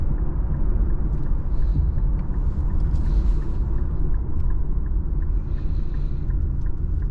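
Inside a 2014 Infiniti Q50 Hybrid with almost 108,000 miles, a low continuous rumble of the engine and road noise runs steadily while driving, with faint ticking and no speech.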